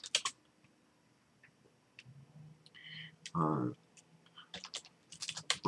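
Sparse computer-keyboard taps and clicks while an email is typed, coming in scattered light bursts at the start and end, with a brief voice-like sound in the middle; quiet, close room.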